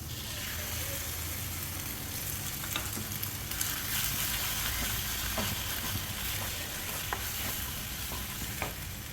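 Eggs frying with grated coconut in a pan over high flame, a dense, continuous sizzle with occasional light taps of a spatula, close and steady throughout.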